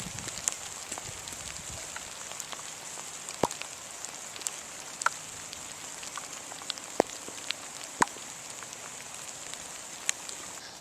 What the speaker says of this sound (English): Birchhaven Cove in the pouring rain